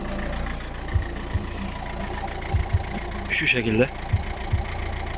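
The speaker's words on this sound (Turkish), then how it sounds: "Rölanta'da bu araçta bu sesi alıyorsunuz." Ford car engine idling, a rough truck-like low rumble running steadily with periodic knocks and taps, heard close, while someone speaks briefly over it.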